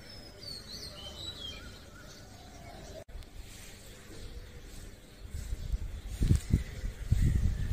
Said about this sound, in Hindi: many birds have made it there stage two perform sweet singing